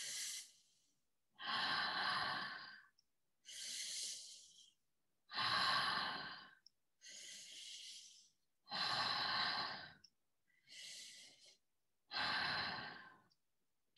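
Slow, deep breathing during a breathing exercise: about eight long, airy inhales and exhales in a steady rhythm, each separated by brief silence, close and fairly soft.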